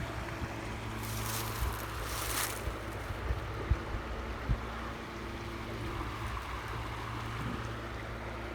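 A creek flows outdoors with a steady, soft broadband rush of water that holds evenly throughout, and no one speaks.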